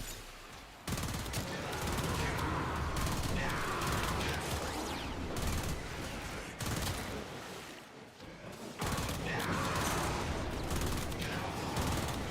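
The Latum weapon in Warframe firing in long sustained bursts of rapid gunfire, loud and continuous, with brief gaps near one second and around eight to nine seconds before the barrage resumes, as a player talks over the action.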